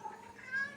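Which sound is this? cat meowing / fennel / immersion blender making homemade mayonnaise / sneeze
cat meowing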